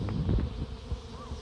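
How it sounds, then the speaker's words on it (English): Buzzing of a bee swarm close by, a dense droning hum with some individual insects passing near. "there's also a cluster of bees right there"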